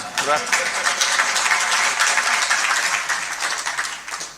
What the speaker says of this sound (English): If you are clapping, clap properly.